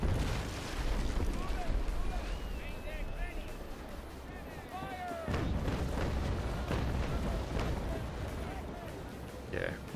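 In the naval battle game Naval Action, ship cannons fire in rolling volleys. Heavy booms and bursts come one after another with crackling impacts, and a voice talks over the bombardment throughout.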